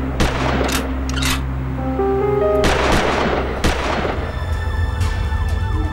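A dramatized gunfire sound effect for a Delhi gang crime story: loud, sharp shot bursts ring out in a rapid volley, with tonal siren-like wails layered beneath and no talk.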